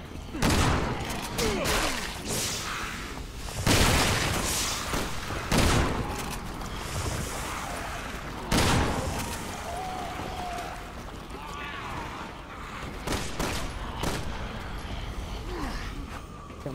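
Repeated gunshots hammer away at zombies in Resident Evil 6, loud and close, fired in irregular bursts every second or two across a continuous rumbling battle din.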